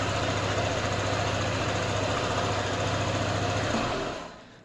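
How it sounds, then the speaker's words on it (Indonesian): An ADV motorbike engine with a jammed smart key ignition runs steadily close by after being started, a continuous chugging idle that cuts off and fades out at the end. "Motor hidup nih teman-teman."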